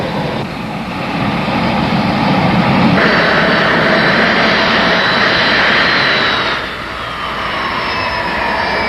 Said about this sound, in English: equalized thrust from all four engines at identical throttle settings